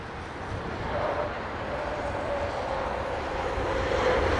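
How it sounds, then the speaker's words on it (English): An airliner at London Heathrow Airport makes a steady, broad jet-engine roar that swells slightly over several seconds, sounding moderately distant, with no voices. "Keep watching, Jamie, if you like your planes."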